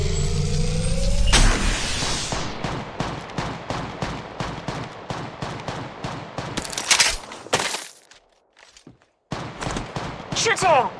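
Gunfire in the Apex Legends video game: rapid bursts of sharp shots in quick rhythmic succession, loud and close, with brief pauses and a short gap of near silence partway through.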